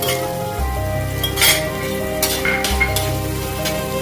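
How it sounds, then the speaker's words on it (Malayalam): Chopped small onions hit hot oil for a chicken curry, giving a steady broadband sizzle with a low hum beneath and a few brief louder bursts as the pan is stirred. "അതിലേക്ക് നമുക്ക് ചെറുതാക്കി വെച്ചിരിക്കുന്ന ചെറിയ ഉള്ളി ഇട്ട് കൊടുക്കാം"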